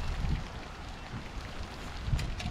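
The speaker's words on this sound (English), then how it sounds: "We'll come back to you once this little rain spell goes through" Rain falling outdoors during a crappie fishing trip on open water, a steady hiss of drops pattering on surfaces with low rumbling wind noise, continuous and fairly close with no talk.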